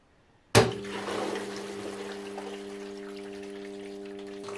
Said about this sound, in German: das Wasser rauscht hier über dieses Rohr herunter und spült dann den Verdampfer